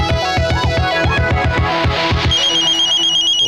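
A telephone plays a loud melodic ringtone, a quick repeating run of bright electronic notes that shifts into a higher sustained pattern, alone with no talking.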